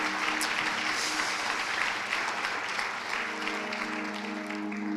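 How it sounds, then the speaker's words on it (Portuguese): Steady applause from a church congregation during a leadership training gathering, a continuous wash of many hands clapping at moderate loudness, fairly even with no speech. "Vamos aplaudir ao Senhor por tudo isso"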